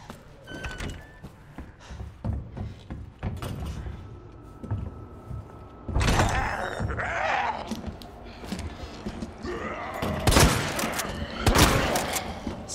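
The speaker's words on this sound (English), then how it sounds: "I'm using the shotgun" Shotgun blasts from Leon's weapon in Resident Evil 2, a few loud, sharp bursts spaced irregularly among thuds and clatter, with game sound underneath throughout.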